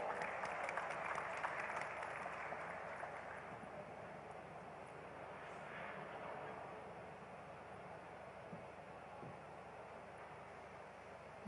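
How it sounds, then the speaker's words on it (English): A large conference audience at DATE India 2023 applauds as an Economic Times associate editor is invited on stage, a dense, steady wash of clapping that runs loud and unbroken from start to finish. "Can we have a big round of applause for her as well?"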